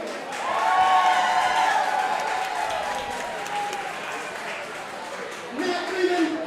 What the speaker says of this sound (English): let's give a round of applause to Sacramento Fire Department